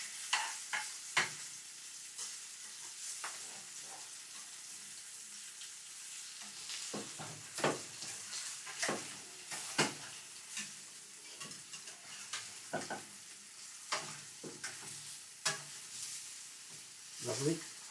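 A seabass fillet fries in a pan with a soft, steady sizzle, broken by sharp clicks and scrapes of a utensil as it is turned over, all fairly quiet and close.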